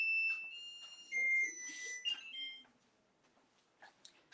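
A kitchen timer beeps while banana muffins are being made, giving a few bright electronic tones early on that are then followed by quieter clatter and handling sounds.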